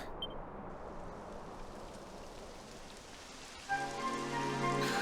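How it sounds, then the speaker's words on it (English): Steady rain falling and pattering on surfaces in the video game Dragon Quest XI S, a dense hiss throughout, joined near the end by a brighter tonal game sound over the rain. "Typical. It would have to go and start raining, wouldn't it?"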